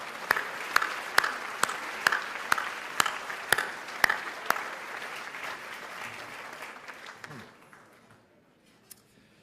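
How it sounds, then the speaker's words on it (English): An audience applauds Debora Patta with a loud burst of clapping. Sharp individual claps stand out at first, then the applause thins and fades into near silence at the end. "Ladies and gentlemen, I think a huge round of applause for Debora Patta."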